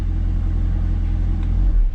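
A Cadillac CTS-V third-generation car idles with a steady, loud low engine rumble that stays even throughout, swelling slightly near the end as if shutting down.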